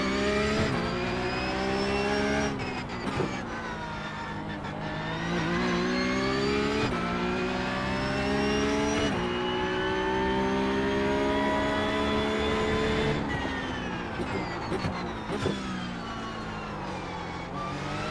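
A Porsche 992.2 Cup race car in a sim racing game, its engine holding a loud, steady high-pitched wail that rises and falls through gear changes and revs, continuous and close throughout.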